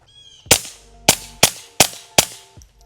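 A .22 fired through a Sylvan Arms SA22 Ti titanium suppressor lets off five sharp, muffled cracks close by. They come in a quick, slightly uneven rhythm over about two seconds, each fading with a short tail.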